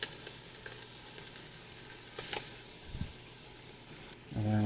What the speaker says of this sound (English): we're just gonna brown our Portuguese sausage